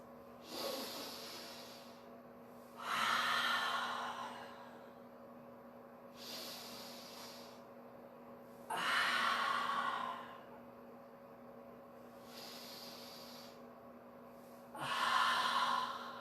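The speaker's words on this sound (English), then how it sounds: "Deep breaths." Deep, slow breaths during a gentle yoga flow, four long airy exhales spaced a few seconds apart with quieter inhales between, close and clear with no talking.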